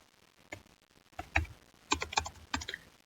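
Keys on a computer keyboard tapped in short irregular bursts while coding a React Netflix clone, close and fairly quiet, with scattered single clicks between clustered runs of keystrokes.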